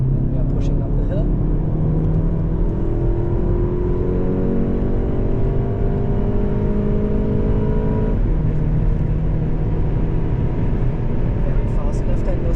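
A VW Golf 7.5 GTI accelerates uphill on the Nürburgring Nordschleife. Its engine drones loud and steady with rising pitch, and it keeps going without a break. Someone talks over it throughout.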